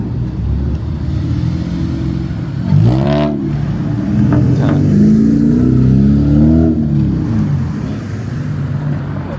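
Cars revving and swanging around a parking lot at a casual car meet, engines rising and falling in several rising sweeps, fairly close, with faint background chatter.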